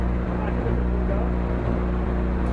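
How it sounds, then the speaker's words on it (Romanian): A Dacia 1300 barn-find car's engine held at about 1500 rpm while its cooling circuit is bled, giving a steady, close, low droning hum with an even throb and no pauses throughout. "Cu motorul turat, la aproximativ 1500 de rotații pe minut"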